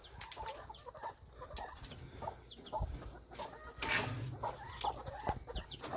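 A mother hen clucks among her three young chicks in a backyard coop, a series of soft, close clucks with a brief louder squawk midway, over faint chick peeps and quiet outdoor background.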